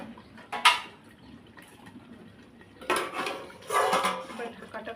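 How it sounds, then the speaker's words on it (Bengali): A metal pot lid lifted off a pan of chicken biryani masala, followed by scraping stirs with a spoon against the pot; clanks come in short bursts near the mic, with quiet room noise between. "ঢাকাটা খুলে নেড়ে দেবো"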